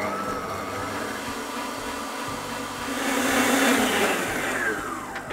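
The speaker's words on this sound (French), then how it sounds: "Je mets à fond au batteur pendant environ 5 minutes, il faut que ce soit bien blanchi." An electric hand mixer runs at full speed, beating sugar into a batter until pale, a steady loud whirring drone that swells slightly midway and continues alone throughout.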